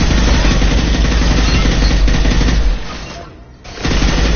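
Sustained automatic gunfire from a firefight in the video game Mass Effect 2, dense and loud for about three seconds, then easing briefly before the shooting resumes.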